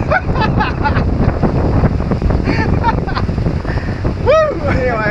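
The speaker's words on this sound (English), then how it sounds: "The waves have picked up quite a bit." Wind roars over the microphone while waves slosh and break around a reefed sailboat in about 20 knots of monsoon wind, a strong continuous rush with a voice shouting over it.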